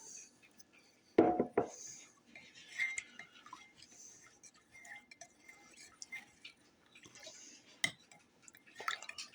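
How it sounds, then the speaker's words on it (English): A metal spoon stirs raw honey for a homemade cough and cold remedy, giving a few quiet clinks and scrapes against the container, with one louder knock near the start over soft background noise. "Get it stirred up really good"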